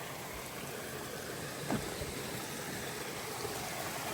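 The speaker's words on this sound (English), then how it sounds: "There's a little trail leading down to like a little waterfall here." A small waterfall in mountain wilderness of the Pacific Northwest, heard as a steady, even rush of falling water filling the scene at close range, with no voices.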